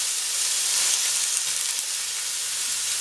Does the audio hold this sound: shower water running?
no